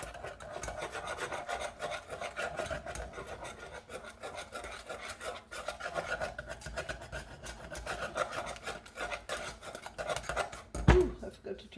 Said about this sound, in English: as you whisk it, it will get really thick, and you keep adding more soup